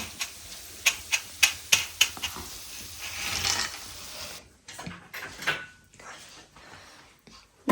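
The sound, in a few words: spices frying in hot oil for tempering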